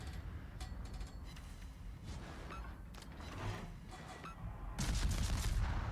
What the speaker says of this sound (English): Let's see how much damage I do with this one salvo.